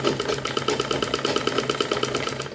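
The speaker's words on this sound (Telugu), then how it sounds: "నేను కుట్టి కుడుతున్నాను" A sewing machine stitching a boutique-style high neck princess-cut blouse, close and steady, its needle clattering in a rapid, even rhythm with no talk.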